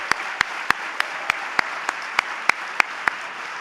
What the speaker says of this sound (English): clap for them. Make it loud